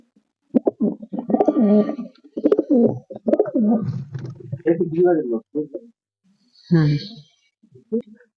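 Pigeons cooing in soft, repeated rolling phrases, close by, with pauses between bursts and a brief louder coo near the end.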